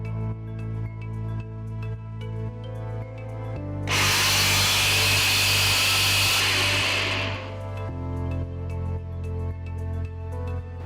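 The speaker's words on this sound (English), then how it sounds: "So first grind it to a nice coarse mixture." A mixer grinder whirs loudly for about four seconds as roasted desiccated coconut, cardamom powder and spices are ground to a coarse mixture, with steady tonal hum before and after the burst.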